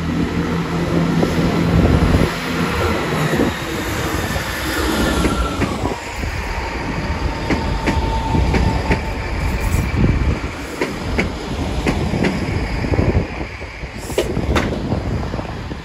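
Train pulling out of Exeter St Davids station on a winter afternoon, a continuous rumble with wheel squeal and rhythmic clatter over the rail joints, fairly close and steady throughout.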